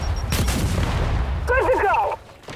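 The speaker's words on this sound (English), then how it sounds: "Throwing frag!" Frag grenade blasts in Gears 5 horde mode, with a heavy boom and gunfire crackle up front and then a short warbling effect, loud and close under game noise.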